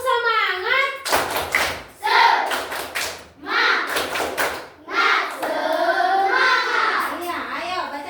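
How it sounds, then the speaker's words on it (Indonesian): A classroom of children claps together in a rhythmic cheer, bursts of hand claps alternating with their chanting voices, close and lively. "Ayo tepuk semangat."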